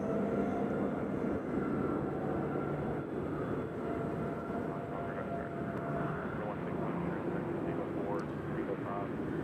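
An Alaska Airlines airplane taxiing at Nashville International Airport gives a steady, distant jet engine drone and rumble, under someone talking.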